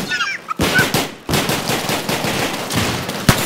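Automatic gunfire in a first-person shooter game rattles in loud, close bursts, with a short pause early on and then sustained rapid shots that run almost without a break and end in a final sharp report.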